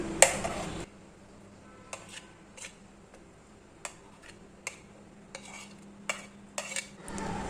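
Spoon strikes clink sharply against a bowl while beaten egg is mixed with spices and salt, several separate taps over a quiet background.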